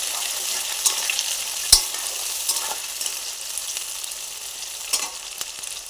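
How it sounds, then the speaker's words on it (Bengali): Chopped onion frying in hot oil, giving a steady close sizzle with occasional spatula scrapes and one sharp clink against the pan. "পেঁয়াজটা ভালোভাবে ভেজে নেব"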